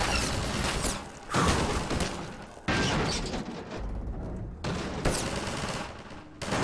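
Rapid gunfire from Half-Life 2 VR: loud bursts of automatic shots with booming impacts, cutting out and restarting several times, with no talk over it.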